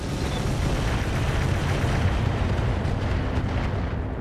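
LRM missile volley fired indirectly in the video game Roguetech, a dense continuous rumble of launches and explosions, loud and close, holding steady without pause throughout.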